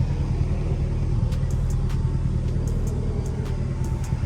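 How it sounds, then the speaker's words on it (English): A Mazdaspeed 3 engine runs steadily close by as a continuous low rumble at constant level, with a few faint clicks above it and no talking. "the car starts right up every time"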